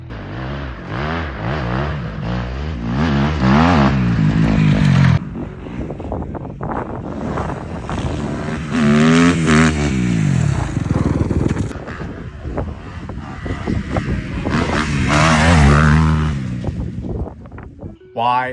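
A 2025 Kawasaki KX250F dirt bike engine revs in repeated rising and falling surges with harmonic sweeps, loud and close, with wind buffeting over it.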